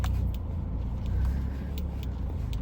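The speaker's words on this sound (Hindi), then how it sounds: "गाड़ी लगा देती हूँ सीधी करके।" A car is parked, its engine idling with a low steady rumble and faint clicks and shifts over it, close and continuous with no talk.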